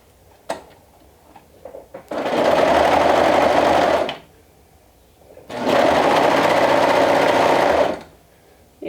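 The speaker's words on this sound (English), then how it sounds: "just stitch it along the long end with 1/4 of an inch seam allowance" Sewing machine stitching a drawstring seam with a quarter-inch allowance: two loud, close bursts of rapid whirring stitching, each about two seconds, separated by a short quiet pause with small clicks.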